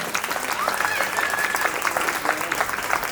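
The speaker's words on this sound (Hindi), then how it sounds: "कि एक जोरदार तालियों से इनका स्वागत करें" An audience at a school annual function claps to welcome a guest, a dense, continuous wash of many hands with a voice or whistle-like tone rising briefly through it, loud and close throughout.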